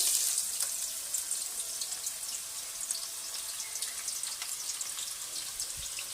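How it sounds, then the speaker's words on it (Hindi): Two medium onions sizzle steadily in a bowl of very hot oil, a dense, even frying hiss with small crackling pops running throughout, close and fairly loud, with no talking. "तेज गर्म ऑयल में मैंने प्याज डाले हैं।"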